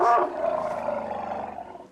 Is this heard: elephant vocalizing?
yes